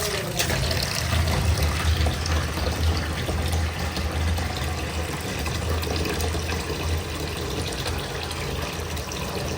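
Water pours steadily into a cooking pot of dal in a home kitchen, a continuous close gushing and splashing that fills the whole stretch without pause.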